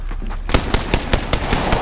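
Rapid gunfire in Apex Legends, a close, loud burst of about seven evenly spaced sharp shots after a brief quieter lead-in, with no voices over it.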